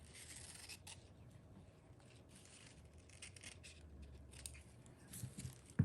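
Scissors snip through paper during gift wrapping, making faint, quiet cutting and rustling sounds in a near-silent room, with a sharper clunk at the very end.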